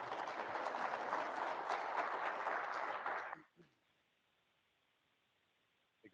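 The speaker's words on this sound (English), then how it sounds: "Give him a round of applause." An audience applauds as Admiral Downing is welcomed to the stage at an annual event. The applause is loud and sustained for about three seconds, then stops abruptly, leaving near silence.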